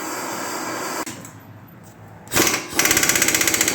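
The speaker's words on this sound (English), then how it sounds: "I'm not going full bore with the air gun." An air impact gun loosens a rusted, tight-fitting 2 inch fine thread fitting on a 1948 Ferguson TE20 tractor, first a steady whir, then a loud burst of rapid hammering pulses near the end, close up with no talk.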